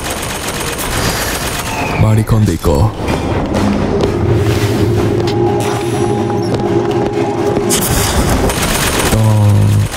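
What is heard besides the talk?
turret gunfire in video game BioShock Infinite Burial at Sea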